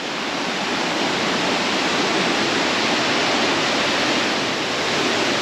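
Nauyaca Waterfalls in Costa Rica pour with a constant, powerful whitewater roar, heard up close at an even loudness from start to finish without any talking.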